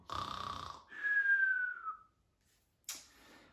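A voice imitates a big snore during a children's pretend-sleep action game: a drawn-out, wheezy snoring breath, then a pause of silence and a short snort-like burst.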